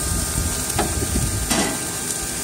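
Tomahawk and ribeye steaks sizzle over the heat on a grill, a close, steady frying hiss with a couple of faint scrapes and clicks.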